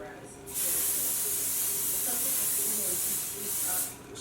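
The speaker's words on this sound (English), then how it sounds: "spray the pan" Cooking spray hisses from a can onto a cake pan in a home kitchen, one close, steady burst of about three seconds that starts and stops sharply, with faint background sounds around it.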